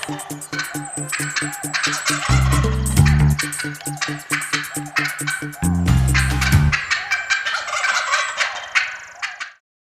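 Wild turkey toms gobbling near hens on a spring turkey hunt, a steady run of loud, rattling gobbles that overlap and repeat from close by, with no talking.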